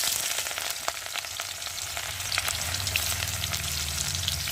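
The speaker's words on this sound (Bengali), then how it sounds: "আর এখন আমি পেঁয়াজগুলো দিয়ে ভেজে নেব।" Onions frying in hot oil in a wok: a steady, fairly soft hiss of sizzling oil with light crackles and a faint stir, continuous and without voices.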